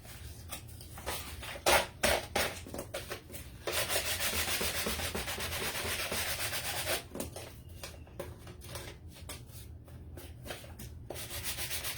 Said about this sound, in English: take our sanding block and just take it off